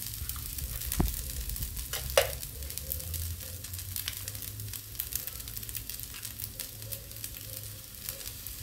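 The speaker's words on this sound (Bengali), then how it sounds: "এবার একটু সয়া সস দিচ্ছি।" Soy sauce goes into egg fried rice frying in a pan over low heat, then is stirred in, giving a steady soft sizzle with occasional scraping taps throughout, fairly quiet and without talk.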